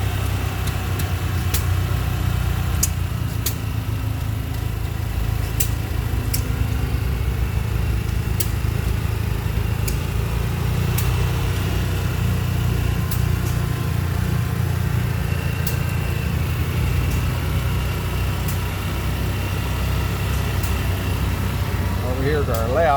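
Old stationary engines run together at a tractor and engine show, one driving a pump jack, giving a steady low chugging rumble for the whole stretch, with faint ticks and a crowd-like outdoor background.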